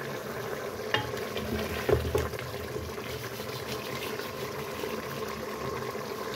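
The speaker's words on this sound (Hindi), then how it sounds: "ये ऑयल डालते हैं थोड़ा सा और इसको भून लेते हैं" Chicken keema frying in a little oil, a low steady sizzle with a few knocks and scrapes from stirring, fairly quiet and close, with no one speaking.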